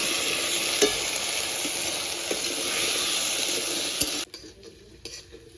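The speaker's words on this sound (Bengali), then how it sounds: "এবার ভালো করে আলু আর কচুমুখিটা ভেজে নেব" Potatoes and taro corms fry with turmeric and salt in a pan, giving a steady close sizzle with scraping stir strokes that cuts off abruptly near the end, leaving a few quiet clinks.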